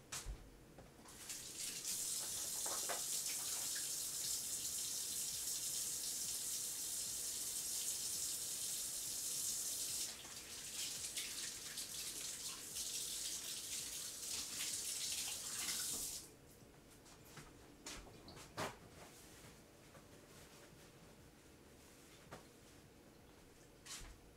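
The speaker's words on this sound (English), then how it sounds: "Wash my hands." A kitchen tap runs steadily as hands are washed, a loud hissing stream that changes tone partway through, then cuts off, leaving faint drips and clinks.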